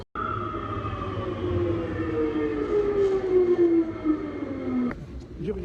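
A Paris metro train pulls into a station with a rising and falling electric whine and steady rumble, and a brief clunk near the end; a few faint voices are present.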